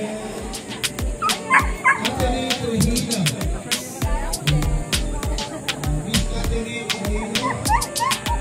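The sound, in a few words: dogs fighting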